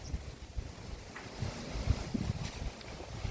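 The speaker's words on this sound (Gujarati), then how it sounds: "પવન જો આજે બહુ છે" Strong wind gusts buffet the microphone outdoors in an open play area, a continuous low rumbling roar that swells and dips in loudness throughout.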